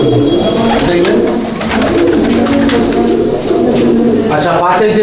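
Male Chapka Giribaz pigeons in a loft coo loudly and continuously, a dense rumbling chorus heard up close while a person talks over it.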